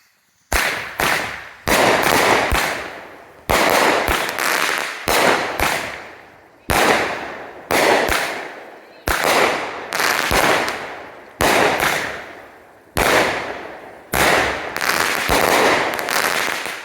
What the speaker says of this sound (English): 16s by Cutting Edge Fireworks. Shoots flaming balls.